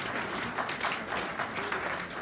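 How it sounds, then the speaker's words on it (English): Continuous applause from a crowd at a breeders' awards evening, many hands clapping at a steady, fairly soft level from a little distance. "Give James a round of applause, please."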